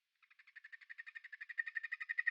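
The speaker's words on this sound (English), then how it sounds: "The sound is produced when a frog pushes air from its lungs across its vocal cords." A frog calls alone in a rapid pulsed trill, about twenty quick notes that swell from soft to louder over two seconds, close and clear against silence.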